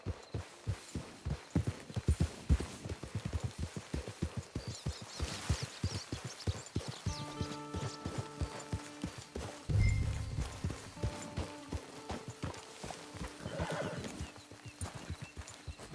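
Rapid hoof clip-clops beat steadily as a horse in a video game moves along, then slow to a stop; a horse whinnies briefly partway through.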